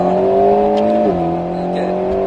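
An Alpine A110 S accelerates while overtaking on a circuit during a driving course, its engine a steady, close, loud drone that drops in pitch once midway, as on a gear change, with no talk.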